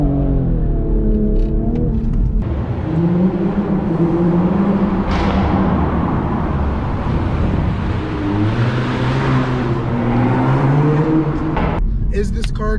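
A Toyota Supra accelerating, short-shifting out of first gear, with a rising engine drone and a raspy, flatulent burble from the exhaust at the shift, loud and close, while a voice talks throughout.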